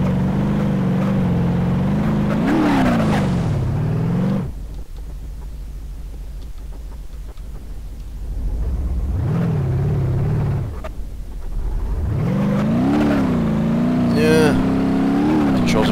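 A Bruckle Moonhawk, a 1970s-style car in the BeamNG Drive driving game, with its engine droning and rising in pitch as it revs, dropping away in the middle, then surging back with a brief high skid squeal. Speech is faint underneath.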